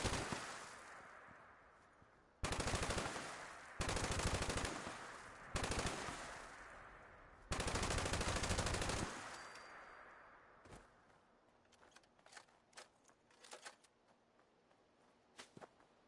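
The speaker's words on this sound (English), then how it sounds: "this is a pretty strong build on an MG42, and it feels like I'm shooting marshmallows" MG42 machine gun in Fallout 76 rips out in several long, loud sustained bursts, each a few seconds, separated by short gaps, before trailing off into scattered fainter shots and quiet.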